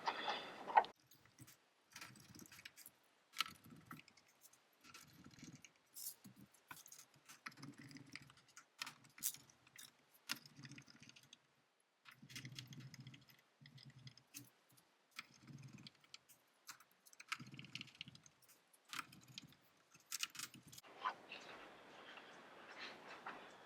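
Hand screwdriver turning screws into the plastic housing of a SawStop jobsite table saw, producing quiet, irregular clicks and scratchy creaks in short bursts separated by pauses, with a brief rustle near the end.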